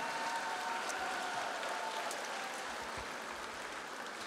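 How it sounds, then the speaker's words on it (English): Audience applause at an award night for a regional student video competition, a steady dense wash of clapping through the whole stretch, fairly loud and even, with no voices standing out. "So give a round of applause for everybody."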